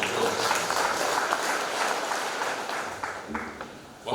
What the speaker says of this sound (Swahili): Makofi mengi kwa jeshi letu.